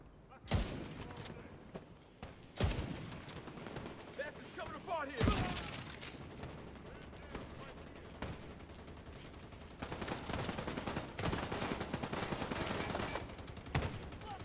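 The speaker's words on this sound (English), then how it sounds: "He's already shooting at me." Video game gunfire aimed at the player: sharp shots and rattling bursts, fairly faint overall, with a louder crack near the start and a denser stretch of rapid fire toward the end, mixed with game effects.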